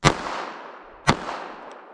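Two sharp gunshots from a Smith & Wesson Shield EZ 2.0 pistol firing .380 ACP, about one second apart, loud and close, each followed by a fading outdoor echo, with no talking.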